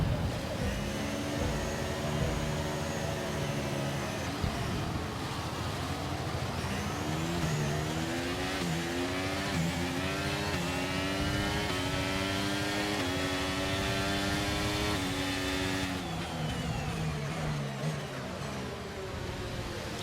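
A pack of F1 race cars launching off the grid in F1 23, engines screaming and climbing through gear changes in overlapping rising whines, steady and loud throughout.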